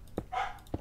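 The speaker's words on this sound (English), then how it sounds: "You can hear her barking." A dog barks indoors in two short, sharp single barks with a quieter sustained tone between them, near and fairly faint.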